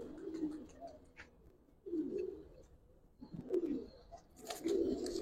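Low, soft coos from large Giribaz pigeons come in several separate phrases with short pauses between them, nearby and fairly quiet, and a few light clicks are audible.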